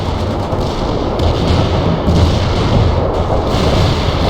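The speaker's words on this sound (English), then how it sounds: "Incoming fire!" Artillery fire in World in Conflict, a continuous heavy rumble of thuds and booming impacts that rolls on without a break and with no talk.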